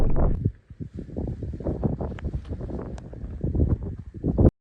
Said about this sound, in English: Obviously, it's getting a lot windier